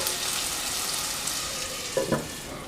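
Beef sautéing in a clay pot for Kerala-style beef varattiyathu, a steady close sizzle and crackle of frying with a couple of brief stirring scrapes near the end.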